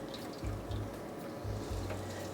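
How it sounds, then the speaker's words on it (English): Boiling water poured from a kettle into a water bath around a cheesecake pan, a faint steady trickle and splash with a couple of low gurgling surges, nearby and without speech. "I will be pouring boiling water around this pan, about halfway up the cheesecake pan"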